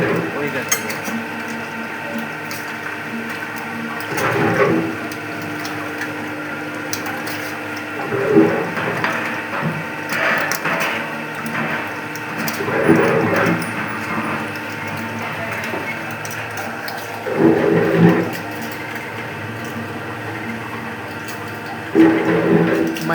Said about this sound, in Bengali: মাইজদি ফুড সংলগ্ন এলাকাতে আমাদের এটাই প্রথম হচ্ছে মেশিন, এক্সপেলার মেশিন